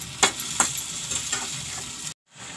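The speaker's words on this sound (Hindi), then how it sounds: "सारी चीज़ें ऐड करने के बाद अब हम इसे लगातार चलाते रहेंगे" Tomato chutney cooking in a pan is stirred steadily, giving a continuous frying sizzle with a couple of sharp spoon scrapes near the start, then a brief drop to silence near the end.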